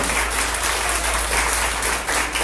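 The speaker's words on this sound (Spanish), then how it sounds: "Dale un aplauso fuerte a Cristo." Congregation in a church applauding loudly and steadily, a dense unbroken wash of clapping from many hands throughout, with no speech over it.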